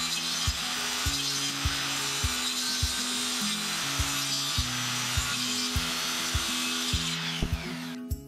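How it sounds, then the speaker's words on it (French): Circular saw cutting along a marked line on a wooden board for a fishing-rod rack, a steady high whine with a rhythmic low knocking underneath, continuous and fairly quiet, no talk. "on va ensuite prendre la scie circulaire pour venir couper tout le long du trait que nous avions tracé au début"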